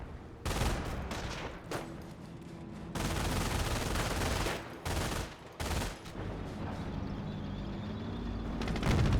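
Video game battle gunfire from a World War II tank game: rapid bursts of machine-gun and rifle shots mixed with heavier blasts, loud and dense throughout with brief gaps.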